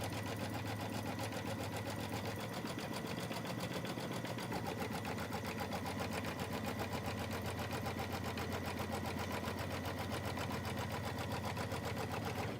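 An embroidery machine tacks down fabric and batting for a quilt block, a fast, steady mechanical stitching hum that runs continuously for the whole stretch, moderately quiet and with no voices.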